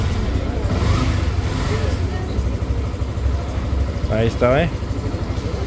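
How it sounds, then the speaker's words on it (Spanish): A motorcycle engine starts and settles into a steady idle, its low rumble running loud and close throughout, with someone speaking briefly over it. "aquí está la moto. Ah, vamos a encenderla."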